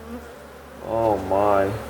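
Bees buzzing loudly and close during removal of a beehive from a kitchen cabinet, a steady drone that swells into two stronger bursts of wavering buzz.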